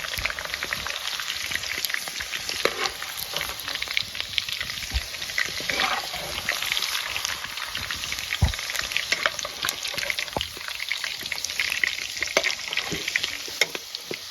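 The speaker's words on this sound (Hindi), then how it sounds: "कुछ इस तरीके से फ्राई करना है इनको।" Steady crackling sizzle of fish and radish frying in hot oil, continuous and close, with occasional louder pops and no talking.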